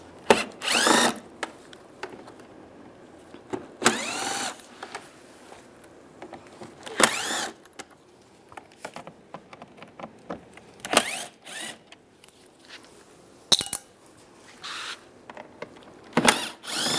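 Screws come out of a 2007-2013 Chevy Silverado center console in a series of short, close bursts from a power driver, with quiet gaps between each run.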